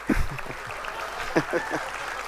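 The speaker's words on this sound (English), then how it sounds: "Clap for me." An audience at a school graduation ceremony applauds, producing a moderate, continuous spatter of clapping with a few louder claps and some voices underneath.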